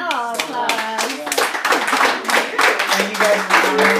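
Audience clapping at the close of a Friday night song showcase, a steady patter of hands that fills the whole stretch while a voice talks over it near the mic.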